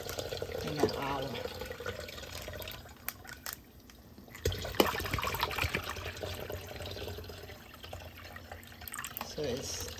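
Gatorade pours through a funnel into a container, a trickling liquid stream that fades and returns, close and fairly faint, with some handling noise.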